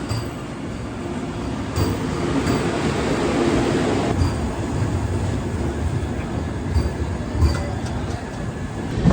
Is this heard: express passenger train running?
yes